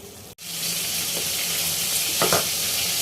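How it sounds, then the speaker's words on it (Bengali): Leafy greens fry in hot oil in a pan, a loud continuous sizzle beginning after a brief pause, with a few clinks of stirring near the end. "শাক ভাজা"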